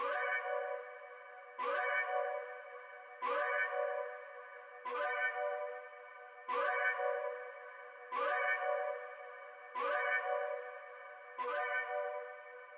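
A tonal, flute-like choir sample repeats eight times at an even pace, each note sustained and washed in lush reverb and chorus before the next begins.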